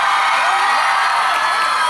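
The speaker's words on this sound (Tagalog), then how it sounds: "Pumalakpak po na may kasamang iyaw nagsasabing maganda po si Lassie" A large audience at a mall variety show event claps and shouts together, a steady loud wash of cheering and whooping throughout.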